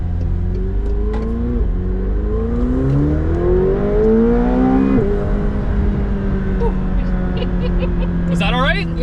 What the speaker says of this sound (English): We're gonna accelerate here.